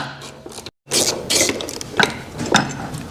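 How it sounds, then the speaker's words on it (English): Ratcheting wrench clicks and metallic scraping as the rear brake caliper bolts come out of an Indian Chieftain or Roadmaster motorcycle, in short uneven bursts at close range with no talking. "I can remove the rear caliper bolts."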